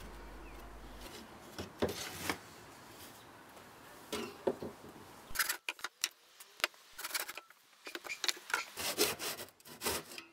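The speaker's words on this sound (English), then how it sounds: "cut four short leg pieces from the straight-edged pallet boards" Hand saw cutting short leg pieces from straight-edged wooden pallet boards for a workbench, close rasping back-and-forth strokes in an uneven rhythm with brief pauses, no talking.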